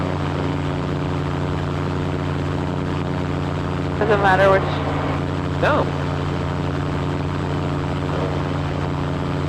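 A seaplane's propeller engine drones steadily in flight from inside the cabin, with people exchanging a few brief words over it.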